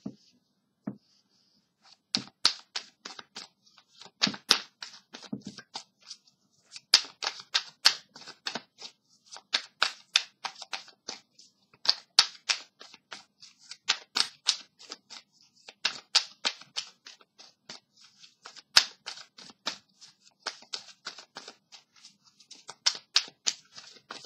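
Tarot cards shuffled alone at close range, a steady run of quick riffling bursts with short pauses between them, crisp and papery throughout.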